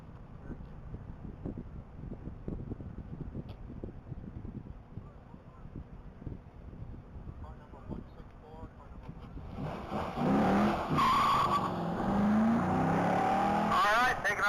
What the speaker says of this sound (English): taking off the line is vehicle 164, Les Greenfield Jr. in his blue 2010 Camaro SS